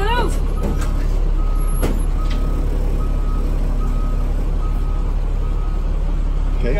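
A bus puts out a steady run of evenly spaced reversing beeps over a loud idling diesel rumble, with a sharp hiss of air near the start and people talking nearby.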